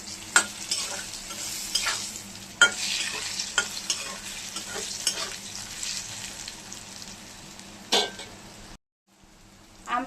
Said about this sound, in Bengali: এখন ভালো করে নাড়িয়ে আমটাকে ভেজে নেব।